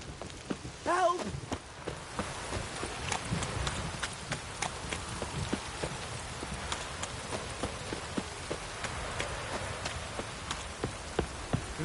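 Rain patters continuously in the video game The Witcher 3: Wild Hunt, with scattered sharper drops and faint thuds, and a brief raised voice near the start.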